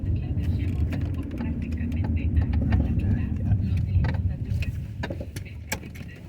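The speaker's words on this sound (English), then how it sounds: "Should wait until the car stops." A car rumbles by close on a Napa street at 1020 Washington St, low engine and tire noise building and fading with scattered clicks and taps, while people talk nearby.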